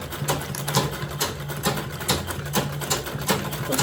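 A sewing machine stitches a half-inch seam on a zippered make-up bag, its motor whirring steadily up close with a quick, regular needle pulse.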